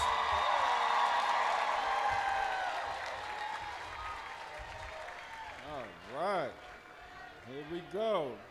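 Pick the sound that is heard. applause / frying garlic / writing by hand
applause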